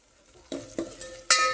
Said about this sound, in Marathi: लसूणची फोडणी केलेली आहे.